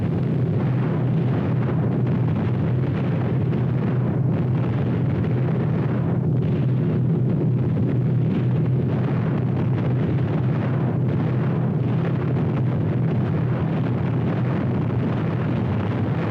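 Bombs from B-24 Liberators exploding during a World War II raid on Rabaul, heard as a continuous heavy low rumble with dense roaring noise and no distinct separate blasts, loud throughout.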